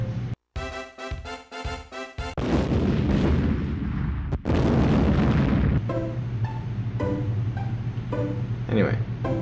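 Rapid bursts and a heavy booming explosion from the video game Golden Sun: The Lost Age, loud and dense, followed by a sustained rumbling roar with chiming game tones layered over it.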